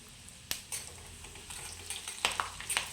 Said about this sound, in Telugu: ఈ కరివేపాకు కూడా బాగా ఫ్రై అయింది కదండి